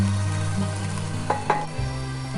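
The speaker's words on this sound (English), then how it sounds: "I'm going to add the garlic now. Let it saute for a couple of minutes" Garlic sautés in a pan for stuffed squid, giving a steady close sizzle and frying hiss with a couple of brief stirring clicks partway through.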